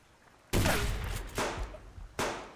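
Three loud gunshots ring out in the survival game Subsistence, each a sharp blast with a lingering echoing tail, spaced about a second apart and heard alone without talk.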